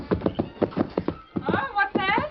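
Hoofbeats of the Lone Ranger's great horse Silver clip-clopping at a ford by a small cabin, followed by a short whinny, with a voice speaking over the hooves.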